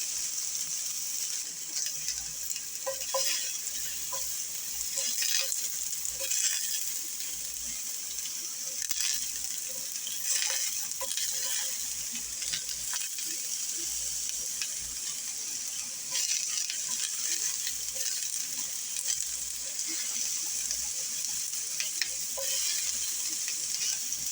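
Diced onion and half a pepper sizzle and crackle steadily in a hot pan, with occasional stirring scrapes over a continuous close frying hiss.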